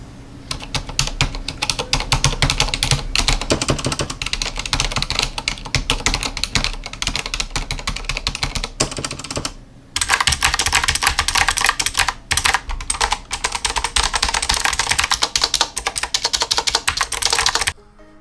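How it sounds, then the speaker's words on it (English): Rapid, continuous clatter of typing on an EasySMX mechanical keyboard, then after a short pause, typing on Cherry MX silent keys of a Corsair Strafe RGB keyboard, dense and close with no voices. "here is this keyboard compared to Cherry MX silent keys on my Corsair Strafe RGB keyboard"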